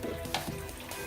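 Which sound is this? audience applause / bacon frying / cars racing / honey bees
bacon frying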